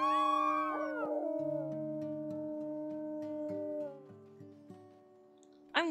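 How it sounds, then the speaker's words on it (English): A wolf howls in the WolfQuest video game, a long rising and falling cry that glides and trails off, over a held synth tone with a steady stepping melody beneath, then a sharp bright yelp near the end. "Let's howl."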